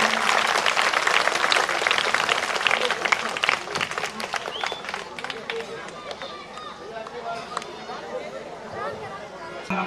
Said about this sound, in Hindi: जोरदार तालियां इन नन्हे मुन्ने बच्चों के लिए